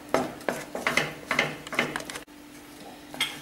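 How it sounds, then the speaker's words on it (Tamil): A paneer and milk mixture for milk peda is stirred and pressed in a pan over low heat: about six rhythmic scraping strokes against the metal, close and fairly loud, then a quieter pause with one last stroke. "கொஞ்சம் சிம்மில் வச்சு நல்லா அப்படி தேய்ச்சி விட்ட மாதிரி கிண்டி விடுங்க."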